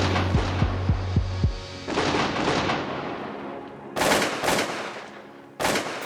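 Shotgun blasts during a waterfowl hunt in Saskatchewan, a rapid volley of several loud, close shots with rumbling echoes and then a few more scattered shots, each trailing off outdoors.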